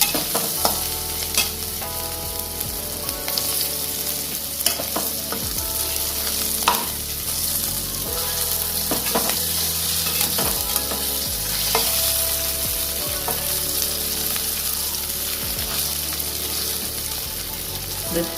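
Paneer frying on a low flame and being stirred for paneer posto, a steady, even sizzle with intermittent spatula scrapes and taps against the pan, close and sustained.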